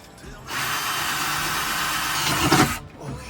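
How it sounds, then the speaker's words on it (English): A power drill whirs steadily for a couple of seconds, drilling holes in the feet of a fridge slide in a truck bed, close and loud, straining briefly near the end before stopping. "Now we're just drilling 4 holes in the feet here"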